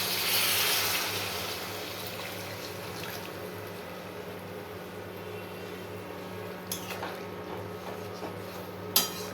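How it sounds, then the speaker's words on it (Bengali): Water poured into a pan of fish curry gives a brief rushing splash at the start, then settles into a low steady bubbling with a couple of light clinks near the end. "এই দেখো জল দিয়ে দিলাম"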